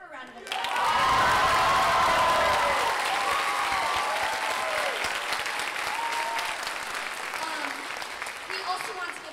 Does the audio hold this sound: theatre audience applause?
yes